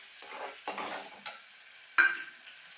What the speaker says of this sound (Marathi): तर तो तिने त्याच्यामध्ये टाकलेला आहे आणि ते व्यवस्थित भाजून घ्यायचं आहे